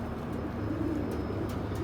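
A male black crescent-marked pigeon cooing in a loft, low soft murmuring coos over a steady noisy background, fairly faint and continuous.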